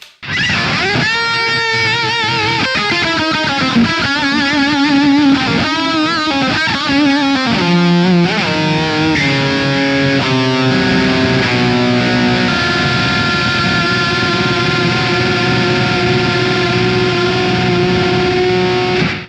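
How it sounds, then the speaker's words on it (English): An electric guitar played through a Mooer Blacktruck multi-effects unit with a distorted lead tone, fast melodic runs and bends giving way to long sustained notes with delay or modulation, loud and heard alone. "now we're heading over to some really cool lead tones"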